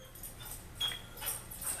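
A dog whimpers softly in a workshop setting, a few faint high whines rising over low background noise.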